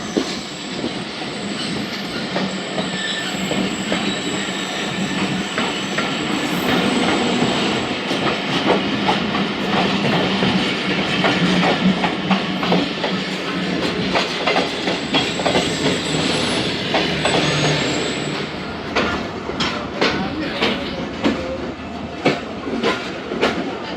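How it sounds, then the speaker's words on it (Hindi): Rehman Baba Express, train 48 Down, hauled by an HMU 30 locomotive, rolls past close by with steady loud rumbling, wheel clatter and rhythmic clickety-clack over about 24 seconds, with occasional squealing of wheels toward the end. "तो सामने से जा रही है 48 डाउन रहमान बाबा HMU 30 के साथ। लोकोमोटिव निकल गया और बाकी कोचेस नज़र आए।"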